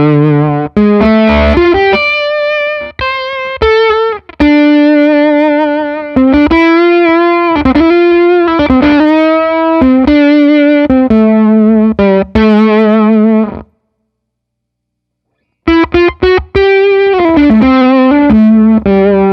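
Electric guitar played through a pedal with its bias control turned low, giving loud distorted sustained notes and chords in phrases, a short silent break, then more playing alone.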